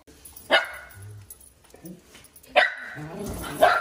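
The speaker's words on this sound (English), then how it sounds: "Why are you barking?" A dog named Sophie barks indoors in a few sharp, loud yaps spaced about two seconds apart, with someone talking quietly between them.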